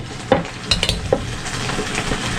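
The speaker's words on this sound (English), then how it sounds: "we're going to dump them into this big bowl" Hot boiled potatoes tipped from a pot into a big bowl, a loud close clatter and thud with several sharp knocks over steady kitchen background noise.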